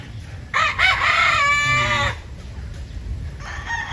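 A white kelso gamefowl rooster crows once, loud and close, a full rising-then-falling call, followed by a shorter clucking sound.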